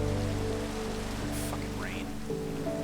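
Steady rain falling as a soft, constant hiss, faint and even throughout, with a brief chirp-like sound over it.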